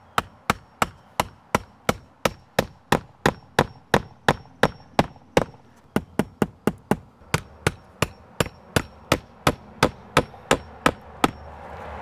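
A hammer drives nails into wooden window trim on an old house, about two dozen sharp, evenly spaced strikes close up, with one short pause partway through.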